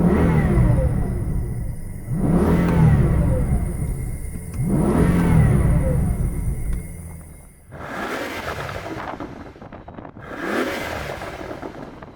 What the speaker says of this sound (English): it did have a really unique sound profile thanks to the V12